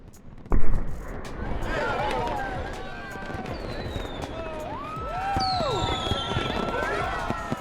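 New Year's Eve fireworks seen from the top floor of a student flat: a sharp bang, then whistling rockets and crackles at a distance, with crowd chatter throughout.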